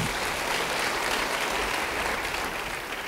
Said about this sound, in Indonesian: Yang mau beri tepuk tangan bagi dia.